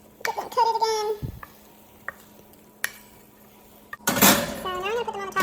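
Candied yams are stirred in a pan with a utensil, giving clinks and scrapes of metal against cookware between stretches of a child's babbling nearby.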